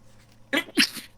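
A single human sneeze, close and fairly loud, with a short sharp burst followed by a second stronger burst and a brief tail, heard alone against a quiet room.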